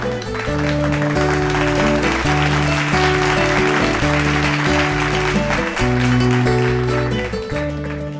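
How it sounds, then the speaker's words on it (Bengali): An audience on a television set applauds continuously, the clapping running under a loud, sustained musical backing throughout. "জোরে একটা হাততালি হয়ে যাক"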